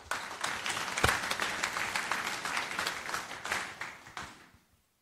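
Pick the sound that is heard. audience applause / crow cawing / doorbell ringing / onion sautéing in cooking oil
audience applause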